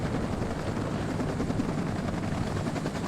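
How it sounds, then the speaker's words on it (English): Huey helicopters landing reinforcements in the strategy game WARNO give off a loud, continuous rotor roar and engine drone with no break throughout. "Over here we have Hueys moving up reinforcements."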